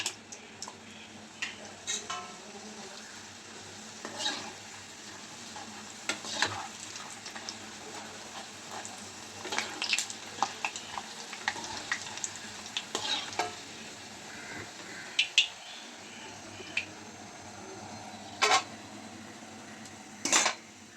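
Sun-dried tapioca slices fry in hot oil with a continuous, crackling sizzle, scattered pops and occasional clinks of a utensil against the pan, with no talking.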